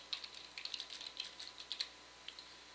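Quick, light keystrokes on a computer keyboard patter in an irregular run of close clicks, fairly quiet, with no talking.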